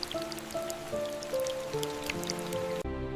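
Rain falling on a rice field, soft scattered drops and patter over a gentle wash, with quiet tonal sounds underneath and an abrupt drop in level near the end.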